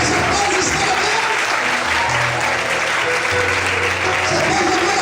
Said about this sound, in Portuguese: Mas aplausos para Deus.